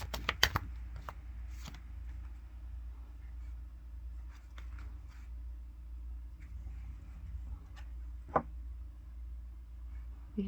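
Tarot cards are shuffled for a reading, with a burst of riffling at the start and then soft, sparse card handling and taps over a low steady hum, close and fairly quiet.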